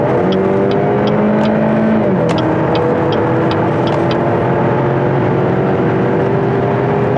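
A car engine roars steadily, pitch rising as it accelerates, then dropping briefly at a gear change before climbing again; loud and continuous with road noise.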